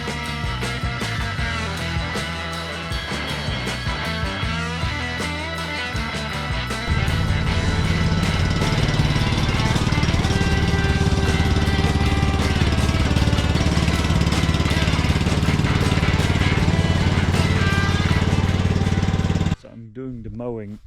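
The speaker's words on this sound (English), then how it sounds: "Doing the mowing at level 5." A petrol lawn mower set to its highest cutting level runs through very tall grass, a loud continuous engine drone that grows heavier partway through and then cuts off abruptly near the end.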